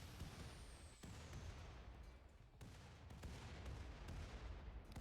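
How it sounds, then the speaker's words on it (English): A mech weapon barrage in RimWorld lands as a faint series of distant booming impacts and sharp cracks scattered over a rumbling, noisy background. "And here's our first barrage."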